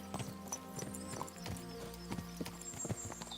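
Horse hooves clip-clop steadily in Kingdom Come: Deliverance II, a medieval game, a close, even walking rhythm of repeated hoof strikes with a brief whinny over low ambient sound.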